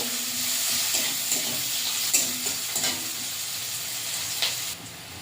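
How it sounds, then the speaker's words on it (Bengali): Garlic and onion fry in a little oil with cumin in a pan, giving a constant moderate sizzle broken by scattered clicks and scrapes of stirring, easing off slightly at the end. "রসুন আর পেঁয়াজটা ভাজা ভাজা করে নেব।"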